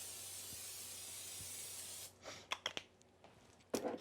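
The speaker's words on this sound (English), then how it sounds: "I'm gonna spray that with a little cooking spray." Quiet steady hiss fades out, then short bursts of aerosol cooking spray puff onto a grill pan several times in quick succession, close by.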